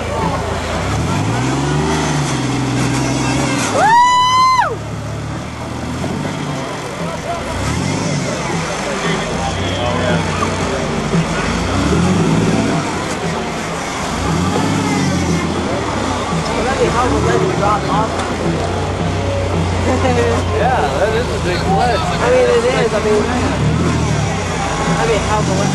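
A vehicle belonging to a man named Nate drives out, its engine droning steadily with rhythmic surges and a sharp whine near the start, while voices talk over it throughout.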